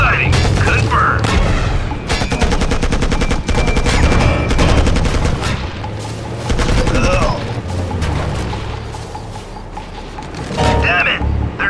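Gunfire erupts in the video game Act of War: Direct Action: rapid machine-gun bursts, sharp volleys and heavy booms crowd together loudly and almost without pause, with brief game voices mixed into the din.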